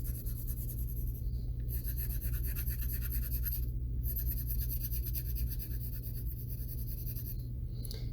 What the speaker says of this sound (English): Go one direction with your pencil, and then a different direction with your pencil.